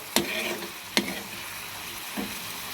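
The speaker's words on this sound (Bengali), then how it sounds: "এখন পেঁয়াজগুলোকে ভাজা ভাজা করে নেব" Onions fry in a pan with steady sizzling, a few sharp scraping stirs of a utensil breaking through at intervals.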